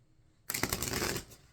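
A deck of cards gets a single quick riffle, a sudden crisp burst of fluttering card edges that lasts under a second against a quiet room.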